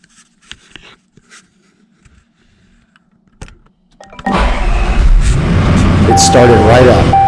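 A Range Rover engine cranks and catches after a few faint clicks, then settles into a loud, steady idle that runs close to the end, with a brief higher tone near the finish.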